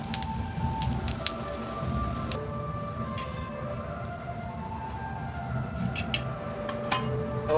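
Kothimbir vadi (coriander fritters) shallow-fry in oil in a pan, with a steady, close, rain-like sizzle and crackle and occasional sharper pops throughout. No one talks.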